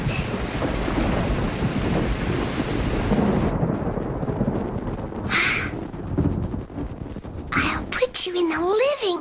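Cartoon rain and thunderstorm: a dense, loud hiss of pouring rain with rumbling thunder, then abrupt cuts to quieter moments with wind gusts and a character's shrill cries and speech.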